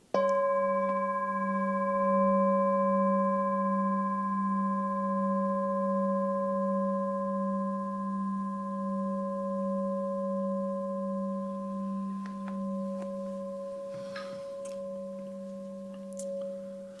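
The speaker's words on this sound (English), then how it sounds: "I will demonstrate you the sound of this full moon singing bowl." A metal full moon singing bowl rings with a sustained, layered tone that hums and slowly fades, with slight wobble in the pitch and a faint rustle near the end.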